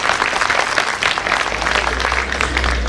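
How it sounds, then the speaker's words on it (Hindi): An audience at a Gita Jayanti celebration gives a loud, dense round of clapping that holds steady throughout, with a low rumble joining partway through. "उनके चरणों में भी प्रणाम करते हुए जोरदार ताली से उनका भी"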